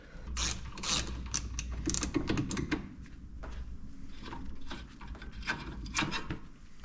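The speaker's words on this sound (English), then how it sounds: "Just cut the rubber line, and then you can put a socket on that." A socket ratchet working a fitting loose on a 1969 Pontiac Bonneville 428 station wagon, giving close, crisp clicking bursts in an irregular rhythm, with small metallic handling noises in between.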